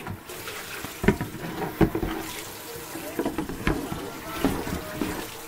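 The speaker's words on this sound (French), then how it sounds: "Ok, après je rince ma bassine." Running tap water pours into a basin at a kitchen sink while it is rinsed after gutting fish, a steady close splashing with irregular sloshes and knocks as the basin is moved.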